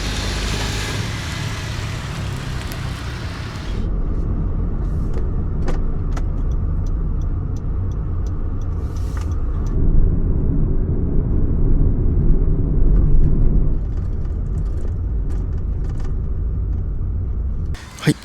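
A Honda N-VAN kei camper van with solar panels driving on a road, heard from inside as a steady engine and road rumble that holds throughout, swelling slightly midway, with a brief faint voice early on.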